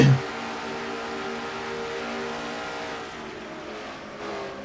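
A Chevrolet race car engine in a racing video game drones loudly from onboard, holding a steady high note before easing slightly near the end.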